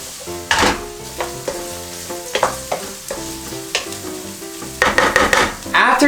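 Spam, green onion and spicy pepper fry in a pan for Korean egg fried rice, a close, loud sizzle with sharp bursts and stirring clatter scattered through, no voices.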